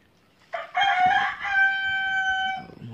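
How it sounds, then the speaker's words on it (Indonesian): A rooster crows nearby, one long drawn-out cock-a-doodle-doo that rises and holds steady before trailing off, loud and clear over a quiet outdoor background. "Mohon maaf ada suara ayam."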